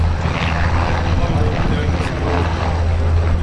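An NH90 military helicopter at an air show gives off a steady, loud rotor and engine drone with a strong low hum, continuous throughout, while a voice talks over it.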